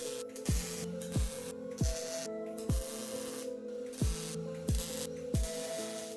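Tack welding on a steel tube seat frame for a Power Wheels go-kart, heard as a run of short, regularly spaced buzzing and crackling bursts with a mechanical tonal hum, close and moderately loud.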